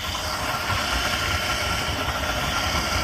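An engine idles and warms up with a steady, loud rumble that holds constant throughout, with a dense broadband hum and no clear revving or voices.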